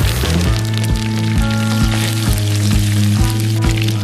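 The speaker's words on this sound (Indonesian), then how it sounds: "Pertama tumis bawang putih. masukkan bawang merah, daun kari" Garlic, shallots and curry leaves sizzle loudly in hot oil in a pan, a close continuous fry broken by regular soft stirring knocks, with no voices.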